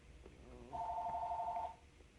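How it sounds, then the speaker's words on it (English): An outgoing phone call ringing: a single buzzy ringback tone lasting about a second, heard close over a low background hum. "It's gonna ring a couple times."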